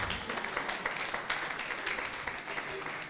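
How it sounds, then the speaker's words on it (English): Scattered clapping from a talk audience at an event on turning products into companies, a steady wash of hands lasting a few seconds at moderate level with no clear pauses. "he will clap as I mention each of those points"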